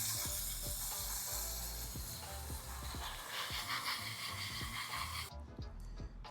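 Water from a hose or tap rinses hard over a potted orchid infested with ants, a loud steady hissing spray with faint tapping drips underneath that suddenly cuts off near the end.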